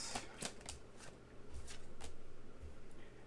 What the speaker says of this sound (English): I'm going to start pulling cards in a second.